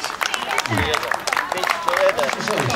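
A crowd applauding runners at a road race in Krotoszyn, Poland, with scattered clapping under a loud announcer's voice over the public address.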